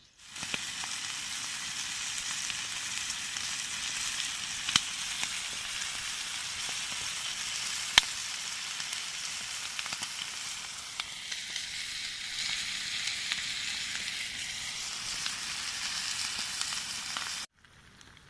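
Bacon frying in a pan beside pasta and cheese at a kayak camp, a steady close crackling sizzle that runs evenly throughout with no talking.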